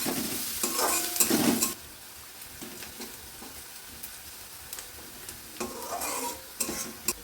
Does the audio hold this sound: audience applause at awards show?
no